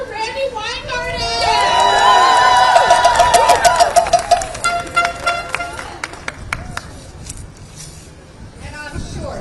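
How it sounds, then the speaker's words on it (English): A crowd at an outdoor protest by Starbucks workers in New York applauds and cheers for Randi Weingarten, president of the American Federation of Teachers, with a surge of voices and claps that thins into scattered, irregular claps. "Please start clapping for Randy Weingarten."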